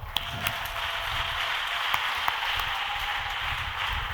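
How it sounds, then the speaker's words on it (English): Steady applause from an audience for a contestant at a Bookworm final on stage, a dense continuous patter of many hands with a few sharper claps standing out, evenly loud throughout. "Put the microphone down and clap for yourself"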